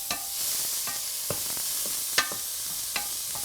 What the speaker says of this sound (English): Let's get this stirred in.